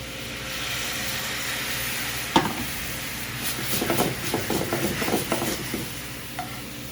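White wine poured into a hot pan with filet mignon and shrimp, a steady hiss and sizzle underneath stirring clatter and a few sharper pops, no talking.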